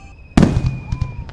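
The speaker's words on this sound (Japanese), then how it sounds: "ママ、何あの花火" A single loud firework burst booms nearby, followed by crackling and sputtering that trails off over about a second, with a faint tone sounding in the background.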